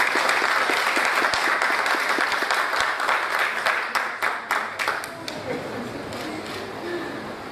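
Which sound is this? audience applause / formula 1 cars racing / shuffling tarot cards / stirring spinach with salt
audience applause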